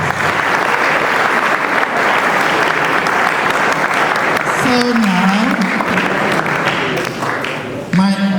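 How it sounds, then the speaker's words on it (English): Loud, sustained audience applause fills a school speech and prize giving day ceremony, with dense clapping throughout and a voice speaking over it near the end. "Let's give them another round of applause."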